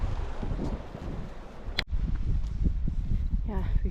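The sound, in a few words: wind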